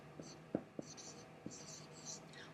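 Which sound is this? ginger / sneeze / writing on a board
writing on a board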